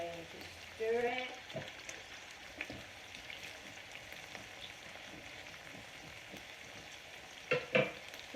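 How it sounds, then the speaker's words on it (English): Rice simmering on low heat in a pot while a spoon stirs it, giving soft scraping and faint bubbling under a low kitchen background, with a couple of brief louder clatters near the start and end. "rice is boiling. Turn it down to small heat and we're going to stir it"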